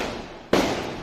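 A single sharp Diwali firecracker bang cuts through a constant outdoor rumble of distant celebration, leaving a brief noisy tail.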